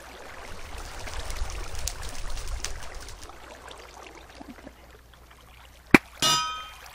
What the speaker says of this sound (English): Anvil. Ooh, I like the sound of this.